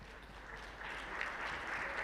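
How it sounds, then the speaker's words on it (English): Audience applause at an academic tech-education event at a university, a steady wash of clapping that swells midway and holds at moderate level. "Please give a big round of applause."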